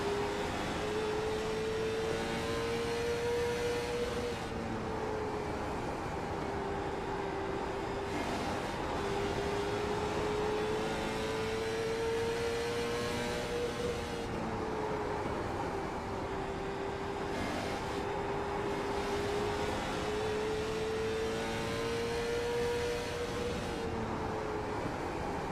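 Onboard race car engine in a short-track sim racing series at Nashville Fairgrounds, a steady droning tone rising and falling with throttle through the laps, continuous and close with no talk.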